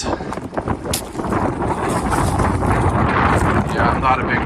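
Strong wind sweeps across a Shenandoah mountainside, buffeting the microphone in loud, continuous gusts that build and hold.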